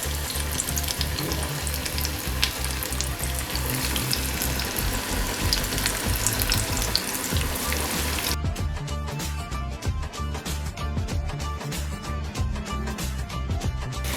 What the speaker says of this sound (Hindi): ये देखिए पकोड़े मैंने डाल दिए हैं।